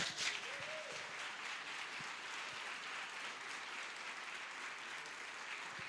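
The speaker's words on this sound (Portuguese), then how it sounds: "é uma salva de palmas para Jesus" A church congregation applauding, a steady, fairly distant wash of many hands clapping that holds evenly throughout.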